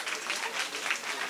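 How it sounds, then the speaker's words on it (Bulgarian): An event audience applauds a speaker at a talk, with a brief burst of steady, dense crowd clapping. "Аплодисменти!"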